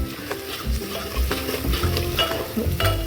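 A tadka tempering sizzling in a pan before pumpkin goes in for a cream and milk pumpkin curry, steady frying crackle with a spoon stirring and scraping in uneven knocks, close and fairly loud.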